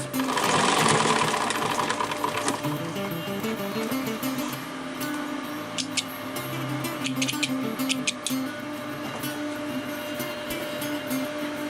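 A sewing machine runs steadily while stitching a backpack handle, a fast mechanical whir with repeated ticking clicks as the seam is sewn back and forth, loud and close throughout.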